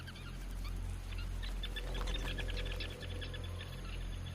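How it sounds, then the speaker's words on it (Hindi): A dense crowd of hundreds of birds at a hunting ground, a far-off chorus of honking, goose-like calls rising and falling over a constant low hum. "यहां सैकड़ों पक्षी मौजूद होते हैं"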